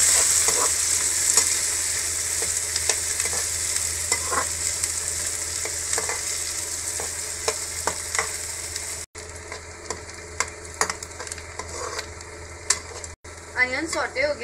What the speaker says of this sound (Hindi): अब इसमें हम अनियन डालेंगे और इसको सॉटे करेंगे।